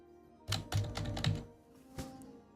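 Fingers type on a computer keyboard sitting just below the microphone: a close, quick flurry of clacking keystrokes, then a pause and a single late key press, with no talking.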